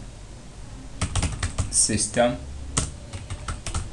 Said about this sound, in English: I just type the name, whatever I want to type the name of this resource.